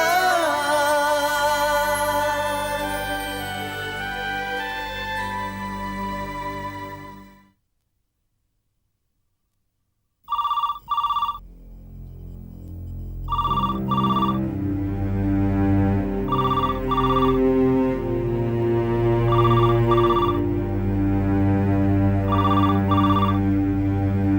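A loud electronic telephone rings in repeated double bursts late at night, following fading music and a pause of silence, with a sustained tone underneath.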